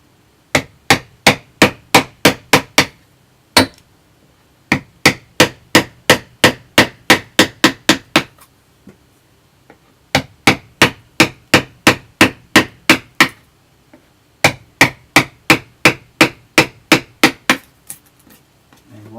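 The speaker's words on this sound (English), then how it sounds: "Watch a wood carver's stream, and that's what you're going to get, is wood hammering." Sharp, loud hammer blows on a wood carving strike in fast, even runs of about ten, separated by short pauses, with quiet between the bursts and no voices.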